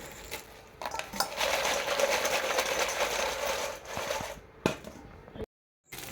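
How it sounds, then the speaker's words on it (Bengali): Sun-dried rice flour papad fries in hot oil with a dense, steady crackling for several seconds, then trails off into a few clinks and a brief silence; no talking. "পাঁপড়টা কতটা শুকিয়েছে তার আওয়াজটা আপনারা নিজের কানেই শুনে নিন"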